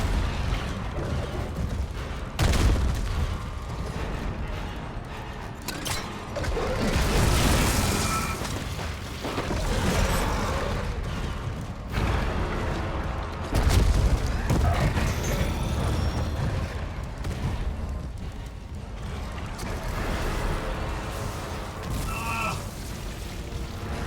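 Gunfire aimed at a creature in the Dead Space Remake video game: repeated loud booming shots and impacts spread across the scene, mixed with rumbling combat noise and brief muffled voices.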